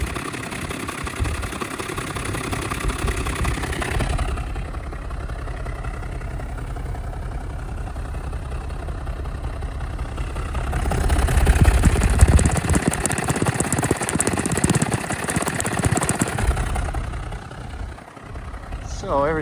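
A 2010 Mercedes-Benz SL550 AMG Roadster engine with dual exhaust hums at a steady idle close by, with the rumble swelling for a stretch midway before settling again.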